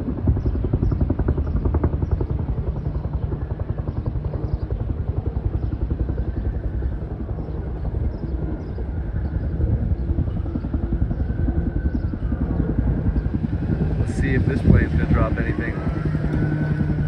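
A helicopter hovers near a wildfire by Bear Mountain in Big Bear, its rapid rotor chop pulsing steadily and loudly throughout, with a brief higher sound toward the end.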